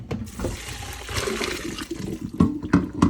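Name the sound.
straining cooked spaghetti, pouring out hot water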